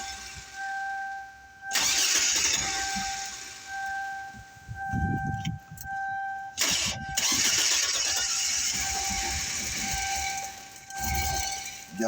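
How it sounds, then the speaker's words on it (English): A 2004 GMC 4.3 Vortec engine, its distributor timing being set, starts in a few separate bursts, each roaring up at moderate volume before dropping back to a quieter background. "We're fixing to fire it up so y'all can hear it running."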